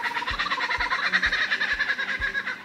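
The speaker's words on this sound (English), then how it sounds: "It's the call of the kookaburra" A kookaburra's rising, chattering laugh-like call used as a film sound effect, a continuous cackling warble with a low rhythmic thumping underneath.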